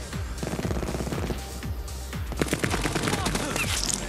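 Gunfire in the video game Call of Duty: Black Ops 4, rapid bursts of automatic shots with sharp cracks and scattered impacts, moderately loud over game ambience.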